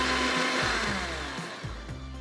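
A kitchen blender blitzes pancake batter on a fairly low speed, a steady close whirring motor that runs the whole time with slight pulsing dips in pitch.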